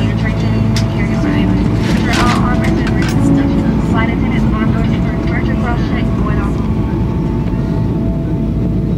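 Steady loud airplane cabin drone before a flight to Atlanta, engines and air system humming continuously, with muffled cabin chatter and an announcement voice over it.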